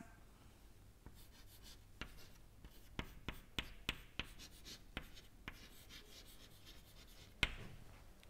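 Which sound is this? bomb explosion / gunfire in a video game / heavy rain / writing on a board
writing on a board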